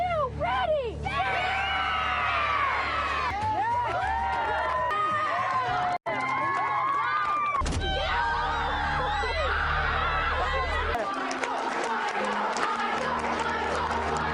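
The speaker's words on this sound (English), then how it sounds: "So much of this show is just children yelling or applauding or both." Children on a reality show yell, scream, whoop and laugh in a dense, excited crowd that stays loud and continuous throughout.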